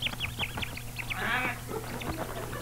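A person imitates a bird call, whistling a rapid series of short chirps followed by a brief trill, close and fairly loud, with no other voices over it.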